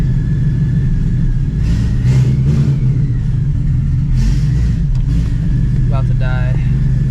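Supercharged 900-horsepower Shelby GT350 with an ESS G3R supercharger, running just after its first startup, a loud steady engine drone throughout with people talking over it.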